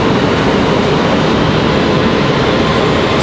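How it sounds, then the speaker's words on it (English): Delta Airbus A220 jet taking off from Raleigh-Durham airport in stormy weather, a steady, loud broadband engine roar that fills the whole stretch without letting up. "Hopefully this will be a really nice, exciting takeoff."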